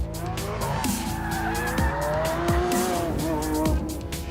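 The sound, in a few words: Lamborghini Aventador S V12 supercar driving, tires squealing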